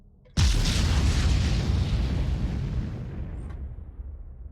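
A torpedo fuel tank explodes in the space game Starbase: one sudden, loud, deep boom that rumbles and slowly fades over several seconds.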